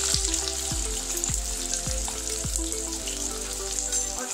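Long-sliced onions fry in hot oil with a dense, even sizzle that holds at a steady level, while a faint series of descending tonal sweeps repeats under it every half second or so; close, no voices.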